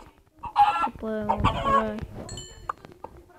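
Minecraft chickens cluck and squawk in short bursts, close and fairly loud, with a few sharp high calls toward the end.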